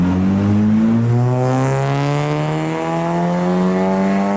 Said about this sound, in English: And almost every other 4-cylinder sounds like this?